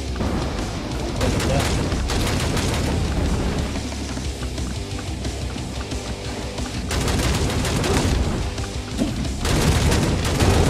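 Enemies explode in the video game Hellbound amid dense, continuous gunfire and booming blasts, loud and chaotic for the whole stretch.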